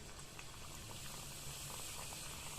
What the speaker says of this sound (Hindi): अब जो ये हमारा घी है अच्छे से गर्म हो चुका है और अब हम इसके अंदर फटाफट से अपनी गुजिया डालेंगे इस तरह से।